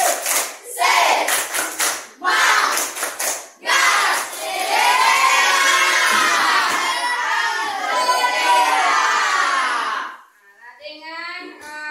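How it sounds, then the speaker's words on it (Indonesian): A classroom of children doing the "tepuk semangat" clapping chant at the end of a lesson, loud rhythmic group clapping and shouted chanting in bursts, then sustained crowd voices with a teacher speaking faintly at the end. "Sekarang kita tepuk semangat dulu. Tepuk semangat."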